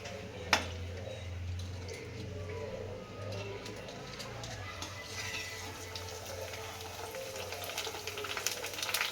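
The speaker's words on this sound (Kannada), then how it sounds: "ಎಣ್ಣೆ ಕಾಯಕ್ಕಿಟ್ಟು ಈ ಥರ ಪೂರಿ ಸಿಗುತ್ತೆ. ಈ ಪೂರಿನ ಎಣ್ಣೆಗೆ ಹಾಕಿದರೆ" Puri frying in hot oil, a steady close sizzle and bubbling crackle throughout, with a sharp tap near the start and a low hum under it.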